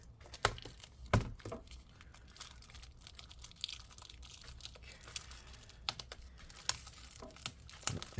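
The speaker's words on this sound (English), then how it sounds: "I guess we're just going to tear up all this plastic." Thin plastic taped inside a 16-inch MacBook Pro A2141 is peeled and torn up by hand during disassembly, quiet close crinkling and crackling with scattered sharp rips and taps.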